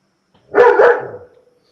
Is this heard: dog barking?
yes